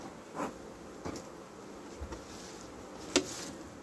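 A honeybee colony in an open hive gives off a faint, steady buzzing hum, broken by a few brief clicks and knocks nearby.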